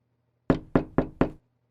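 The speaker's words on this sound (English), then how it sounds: "Emma knocked on the door of the last of Huang's neighbors, Yuto Fujita." Four quick, evenly spaced knocks on an apartment door land crisply in a quiet room as a stand-alone sound effect.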